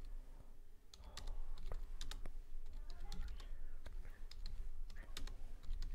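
Fingers type on a computer keyboard while entering text into a spreadsheet cell, producing a continuous close patter of key clicks, with a little quiet speech in the background.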